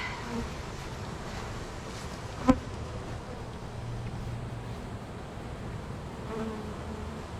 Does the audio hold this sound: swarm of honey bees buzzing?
yes